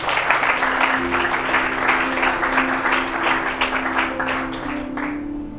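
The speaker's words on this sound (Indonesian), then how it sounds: "Tepuk tangan bagi Kristus." A church congregation at a youth service applauds steadily and loudly for several seconds, a dense wash of many hands clapping, with a low sustained tone running underneath.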